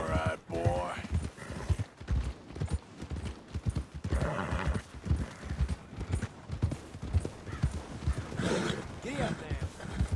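Horse hooves clip-clop steadily with an occasional whinny while a rider travels toward the stables in the Western video game Red Dead Redemption 2, with game dialogue talking over the hoofbeats throughout.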